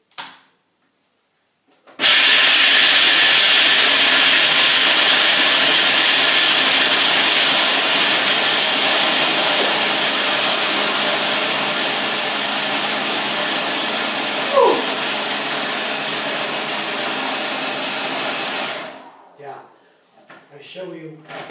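A food processor grinds almonds into coarse meal. It starts abruptly and runs at a loud, steady whirring roar for about seventeen seconds, with a brief rattle partway through, then stops. Speech follows in the closing seconds.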